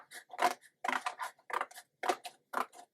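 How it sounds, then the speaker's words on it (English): Scissors cutting a paper craft piece along the seam line, a string of close, crisp snipping strokes in a regular rhythm, each separated by a short pause. "I'm going to cut one side off. Doesn't matter the side, just cut one side off right on the seam line."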